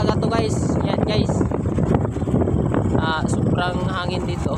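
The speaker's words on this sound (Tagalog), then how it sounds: "sobrang hangin dito." Strong wind on a mountain trail among farmland rushes steadily and loudly into the microphone throughout, a continuous gusting roar.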